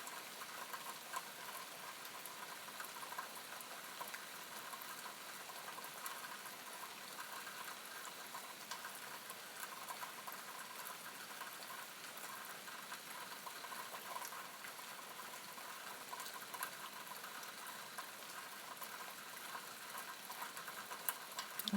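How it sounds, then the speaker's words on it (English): Steady rain falls throughout, a continuous hiss of drops pattering on surfaces at moderate distance, with no talk, just an even wash of wet noise that holds level from start to finish. "Don't you just love the sound of rain?"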